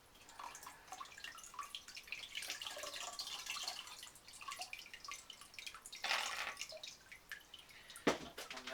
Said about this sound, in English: I'm going to pour water on it.